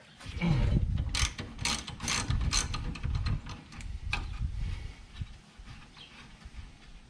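A hand ratchet works loose the tight bolts on the rear brake caliper of a 2009 Scion XB, giving several close bursts of rapid clicking with short pauses between strokes.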